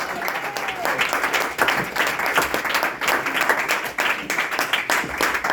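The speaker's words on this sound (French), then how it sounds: "Acclame la parole de Dieu" A church congregation at a night prayer vigil applauds the word of God, with dense, sustained clapping that fills the room and voices mixed faintly underneath.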